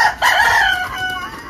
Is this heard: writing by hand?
no